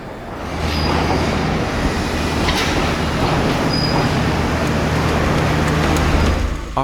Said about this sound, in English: we took a train north towards Sigiriya.